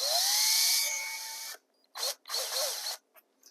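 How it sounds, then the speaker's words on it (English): A power drill drives drywall screws through stacked layers of foam: one long rising motor whine lasting about a second and a half, then a pause and two shorter bursts of spinning and screwing, close and loud. "I'll put drywall screws through the layers of foam"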